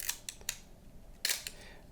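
Ricoh KR10 film camera with no batteries loaded, its shutter fired repeatedly at the mechanical 1/90 speed: a run of sharp, close mechanical clicks, three evenly spaced, then a brief pause before a louder clack followed by another click.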